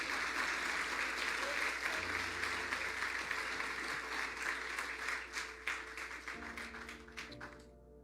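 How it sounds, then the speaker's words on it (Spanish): A church congregation claps loudly and continuously during a Pentecost service, with a low hum underneath; the applause thins and fades toward the end as a few scattered claps linger. "Si le va a aplaudir, que sea fuerte, porque es para Él."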